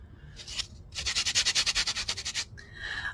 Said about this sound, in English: buffing pad just to go over those edges and make sure there's no burrs